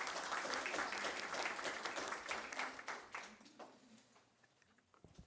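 Attendees at a school district board meeting applaud board members, a lively round of clapping that tapers off over several seconds into near quiet with a couple of stray claps.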